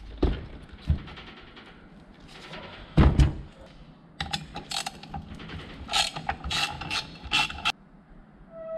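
Bolts being loosened on a mini quad engine during a repair: a series of clicking ratchet turns and metallic clunks, close and fairly quiet, in irregular bursts with short pauses.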